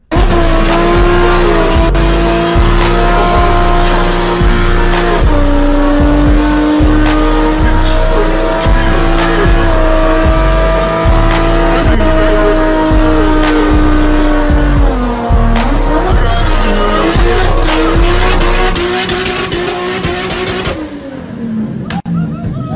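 A car doing burnouts in a backyard roars at full throttle, its engine revving hard and rhythmically while tires squeal loudly and continuously, the noise easing off only near the end.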